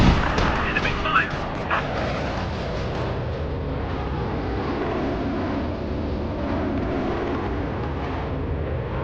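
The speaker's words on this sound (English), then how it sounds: "Enemy fire." Enemy gunfire in the video game Air Conflicts: Vietnam forms a dense, steady rumble of rapid shots and booms, loud and continuous, with a few sharper bursts near the start.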